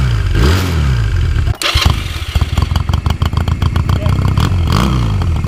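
Honda Rebel motorcycle with cut-down exhaust pipes, a loud close engine with a rough throbbing idle that revs up and down, crackling pulses between revs and no speech over it.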